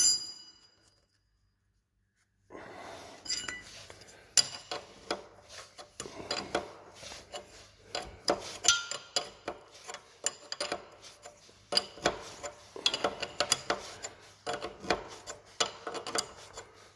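Flat wrench working on a Peugeot 103 MVL moped carburettor: after a brief silence, repeated metallic scraping, rasping and clinking of the tool against metal parts, close and irregular.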